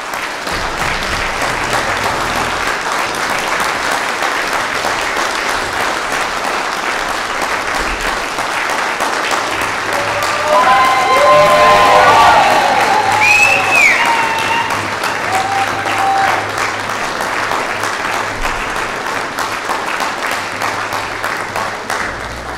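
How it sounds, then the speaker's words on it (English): A general assembly audience gives a sustained round of applause, steady dense clapping throughout that swells slightly near the middle, with faint voices and whistles mixed in. "So let's give him a round of applause to begin this off."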